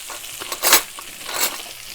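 Steak frying in a hot pan at steak night, a soft background sizzle broken by two louder bursts of hissing spatter, with faint utensil stirring noises between them.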